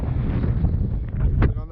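Strong wind buffeting the microphone on a mountain pass, a steady dense roar throughout with a brief louder gust near the end and a faint voice underneath.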